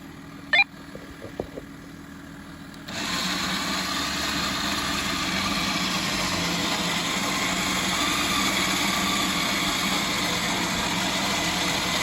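A Grenadier 4x4 engine idles steadily, its low hum growing louder after a few quiet seconds and then holding a constant drone, with faint clicks early on.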